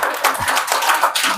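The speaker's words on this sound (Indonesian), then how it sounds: "Tepuk tangan untuk kita semuanya." An audience at an Islamic religious talk claps together in a dense, steady burst of clapping.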